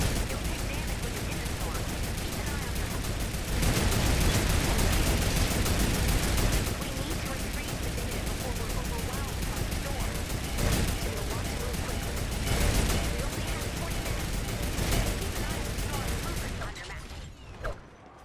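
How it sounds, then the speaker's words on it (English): Turret gunfire blasting apart wooden structures in Fortnite Save the World: dense, continuous rapid shots with periodic heavier bursts, loud and close, ending abruptly. "I'm just going to blow them away with the turret"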